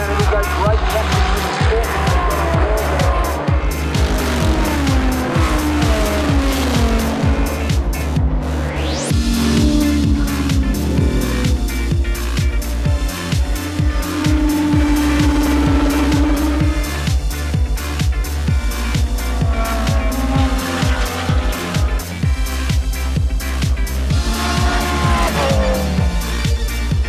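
GT race cars roar away at the start of an Australian GT Championship race at Phillip Island, loud engines revving and shifting continuously while a commentator talks over the din.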